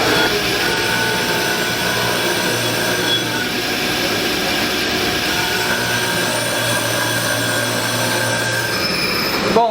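Material being machined off the surface of a car flywheel for a Gurgel build produces a loud, unbroken metallic grinding drone with sustained whining tones, close up and without any voices.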